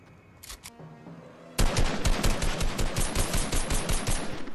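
Rapid gunfire in the video game Fortnite, a burst of sharp, loud repeated shots starting abruptly after quieter game sounds and continuing in a fast rhythmic stream.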